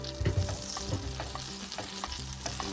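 Butter sizzling in a pan as the base for a white bechamel sauce, a steady close crackle with quick stirring scrapes and light clinks of a utensil against the pan.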